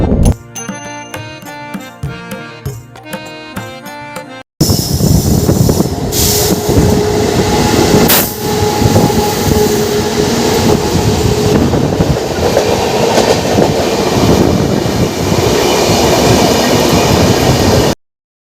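Train noise at Tikiapara railway station: after a short burst of music, a loud, steady rumble of rolling wagons with clattering wheels and occasional sharp squeals carries on close by, with no talking.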